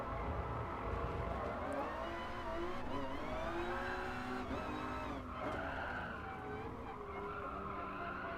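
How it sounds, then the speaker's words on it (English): Midship race car tires squealing in Gran Turismo Sport, long wavering screeches that bend up and down over a steady engine drone, loud and continuous throughout. "Definitely hearing more tires squeal, that's for sure."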